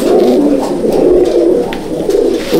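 A low, steady rolling coo from fancy pigeons in a loft at Howrah fills the short stretch continuously, close and fairly loud, with no talking over it.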